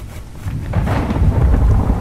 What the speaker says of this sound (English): Oh, we got some rain coming in.